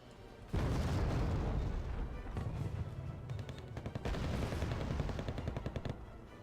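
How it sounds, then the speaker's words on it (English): Battle sounds from the video game Wargame Red Dragon: dense artillery blasts and rattling gunfire keep up loud, continuous booms and crackling bursts throughout, with no talk over them. "the artillery still trying to knock out that Abrams, but to no avail"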